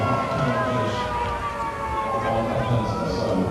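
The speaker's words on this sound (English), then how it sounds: "Siren has sounded." A siren wails continuously over the din of a rugby sevens crowd at the Dubai World Series match between South Africa and Argentina, with commentary voices running underneath.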